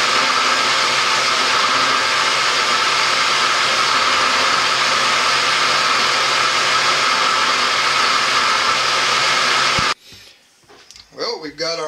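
A blender purees berries for fruit leather, running as a loud, steady whir for about ten seconds before cutting off abruptly, after which a voice speaks.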